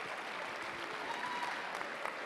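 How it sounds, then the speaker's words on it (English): Dense, steady applause from a large audience at a Counter-Strike grand final, NiP versus VeryGames, at the DreamHack Winter 2012 esports event. The clapping fills the whole stretch evenly as a continuous crowd roar at moderate level. "So round of applause for all you guys for coming out here and supporting these guys and supporting Counter-Strike."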